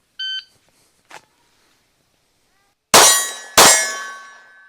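A shot timer gives a short electronic beep, followed by two loud, ringing pistol shots striking steel targets about half a second apart at a range, each metallic clang decaying slowly after its sharp impact.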